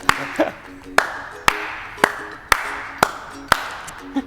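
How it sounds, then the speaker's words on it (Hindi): A group of people clap together in an indoor setting, slow, evenly spaced loud claps about every half second, eight or nine in a row with nobody speaking. "सब ताली बजाए, अपन भी बजाएगा।"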